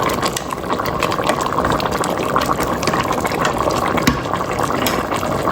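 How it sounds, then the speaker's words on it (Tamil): Water pouring into a pot of mutton curry cooking on the stove, a steady close gushing splash that runs the whole time with no talk over it. "இன்னும் தண்ணி ஊற்றி கொஞ்சம் பிரண்டு வரட்டும்."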